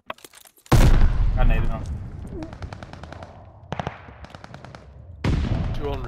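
Video game gunfire crackles in loud bursts of rapid automatic shots with sharp individual reports between them, while players talk over the action.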